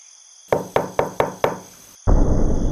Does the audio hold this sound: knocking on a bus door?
yes